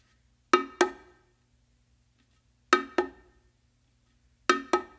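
Bongos played in a ghost groove, paired open tones on the macho drum ringing out in three spaced groups of two bright, resonant hits with silence between, close and alone.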